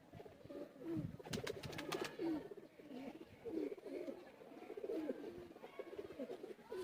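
Kamagar pigeons in their loft coo softly and repeatedly in low rolling bursts, with a few faint wing flutters and brief sharp clicks; no voices.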